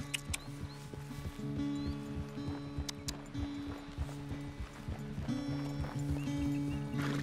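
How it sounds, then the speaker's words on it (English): Horse hooves clip-clop steadily at a riding pace in a farm video game, with tonal game music playing underneath and no talk. "how to ride a horse properly"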